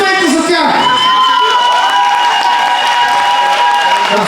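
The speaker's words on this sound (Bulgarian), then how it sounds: "Аплодисменти за тях!" Loud audience applause and cheering at a live blind-date show, with children shouting, whoops and excited voices over dense clapping that fills the room.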